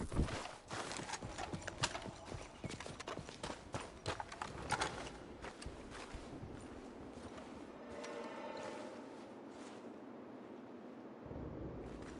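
Horse hooves clip-clop at a steady trot in Red Dead Redemption 2, brisk and close at first with wind and ambient rumble, then fading into a softer, more distant rhythm.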